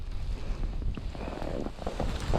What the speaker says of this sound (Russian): Ветрище